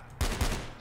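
A modded sniper/assault rifle in Fallout 4 fires two sharp, loud shots in quick succession, each with a short echoing tail, then goes quiet.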